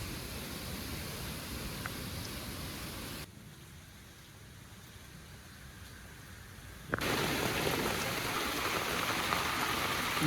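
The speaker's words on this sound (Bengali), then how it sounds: "বীজও লাগাইছি বৃষ্টিও হচ্ছে" Rain falls steadily outdoors where seeds have just been planted, an even, wide hiss of drops that dips quieter for a few seconds and then returns louder, with no voices.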